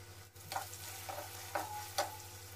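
Chopped capsicum fries in a pan for fried rice, with a soft continuous sizzle broken by three or four quick scraping stir strokes, close but quiet.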